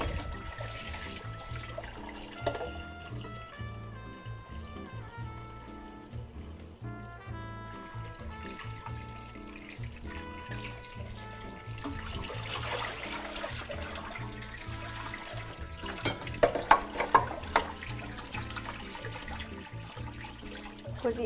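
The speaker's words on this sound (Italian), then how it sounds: "ora andiamo a mettere sotto acqua corrente le uova sode." Tap water runs steadily over boiled eggs in a kitchen, a continuous pouring trickle with occasional louder splashes, and no talking.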